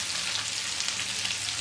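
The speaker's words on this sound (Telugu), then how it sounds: "ఆనియన్స్ దూరగా వేగాయి." Onions and green chilies frying in oil for egg biryani, a dense steady hiss of sizzling heard close and uninterrupted, with no speech.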